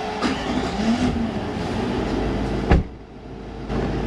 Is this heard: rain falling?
no